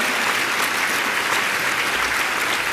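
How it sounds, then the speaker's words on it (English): A luncheon audience at a foster kids event applauds the youth, a steady wash of clapping from many hands with no voices on top. "Please give the youth another hand of applause."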